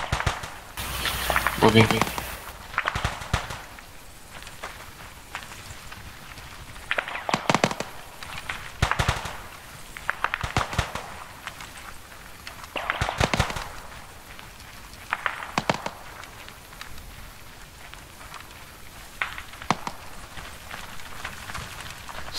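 Enemy gunfire in Operation Nemesis, bursts of shots recurring every few seconds at a moderate distance, with a radio voice and a soldier speaking over the fire and rustling movement between the volleys.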